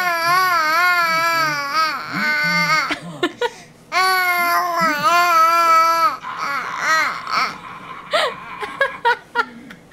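A baby girl makes loud, sing-song babbling and talking noises in bursts of long wavering vocal sounds with brief pauses, close to the listener and with no adult speech.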